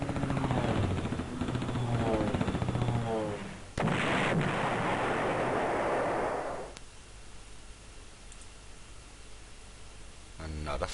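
Strafing run by a fighter aircraft in the wargame Panzer General, a loud burst of rapid gunfire and rushing noise lasting a few seconds, following game music and ending in a quieter stretch.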